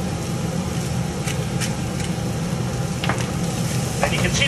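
Shrimp sizzle steadily in a hot pan, a loud, continuous frying hiss with a few small pops and clinks, no one speaking over it.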